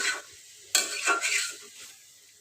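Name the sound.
boal fish being sautéed in a pan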